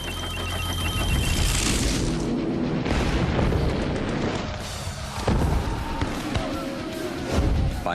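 Explosion sound effect for the Black Tom Island ammunition blast, a series of loud booming detonations and rumbling blasts that follow one another, dense and heavy throughout with sharp bursts between.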